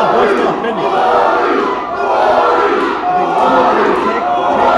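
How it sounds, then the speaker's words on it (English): At a live pro wrestling match between Gory and Paul London, a large crowd chants loudly and cheers in rhythmic waves, a dense roar that fills the whole hall without letting up. "listen to this crowd voice their opinion"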